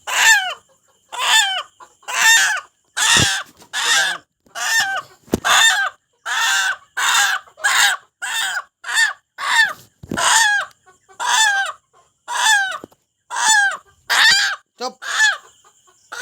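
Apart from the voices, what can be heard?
caught desi rooster squawking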